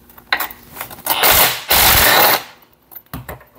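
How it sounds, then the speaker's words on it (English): A ratchet working loose the motor bolts on a Kohler Courage engine, with close mechanical clicking and two long loud grinding, whirring bursts in the middle, then scattered clicks. "we got to get the motor bolts loose on here"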